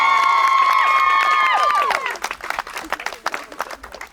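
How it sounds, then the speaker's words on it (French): Wedding guests break into applause and cheers for Maëva at a celebration at the Bastide des Barattes; a held musical tone fades out as scattered, lively clapping and cheering continue, thinning toward the end. "Je vous invite à faire un tonnerre d'applaudissements pour Maëva."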